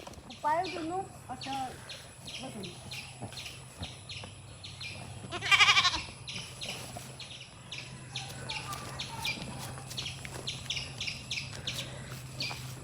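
Goats bleating at a home pen kept for sale at the festival, with a loud close bleat partway through and softer calls, amid birds chirping and people talking nearby.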